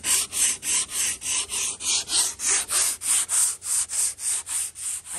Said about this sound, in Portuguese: O Falso tá lixando aqui o bico de proa agora